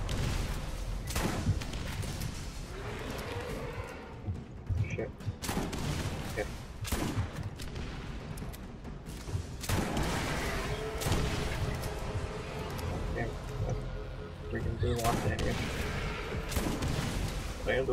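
Rapid gunfire in the shooter Borderlands, sharp repeated shots and bursts firing in irregular clusters alongside explosions and combat noise, with someone talking over the action at times.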